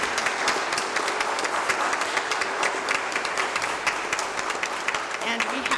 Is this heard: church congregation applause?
yes